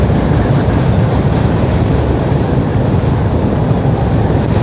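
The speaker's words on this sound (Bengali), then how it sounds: "মালগাড়ি পেয়েছি যদিও" Freight train passing near Farakka Barrage, a dense continuous rumble and roar heard close and loud, with no talking.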